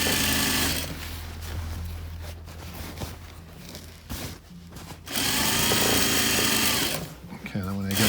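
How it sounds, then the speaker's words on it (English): A sewing machine runs in bursts as it stitches sofa upholstery fabric, its steady motor whir rising and pausing, then a short back stitch at the end, with talk in between. "I'm going to do a little back stitch to close it"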